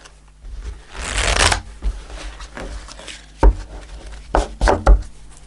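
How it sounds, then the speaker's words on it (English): Tarot cards being shuffled by hand, close and loud: a long riffling flutter followed by a series of quick, crisp slaps and taps as the deck is squared and cut. "Let's see what we get with the cards, Virgo."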